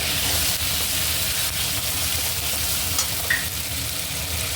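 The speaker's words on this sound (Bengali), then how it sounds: "টমেটোটা একটু মজুদ এর মধ্যে কড়াইশুটিটা দিয়ে দেবো" Green peas and tomato frying with ginger in a kadai for a Bengali fish and cauliflower curry, a steady close sizzle with faint stirring and no voices.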